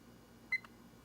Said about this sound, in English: and we'll start the timer.